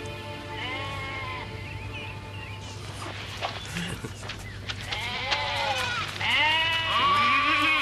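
Several sheep bleat, from a wavering call early on to louder, closer overlapping bleats near the end, against steady outdoor background noise and a low hum, with a brief bit of speech.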